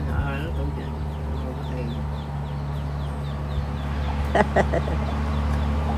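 Soft, repeated clucking from a hen alongside faint high peeping of chicks, over a steady low hum, with a brief burst of louder activity near the end.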